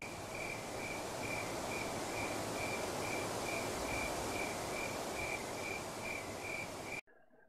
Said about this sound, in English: I know. Crickets.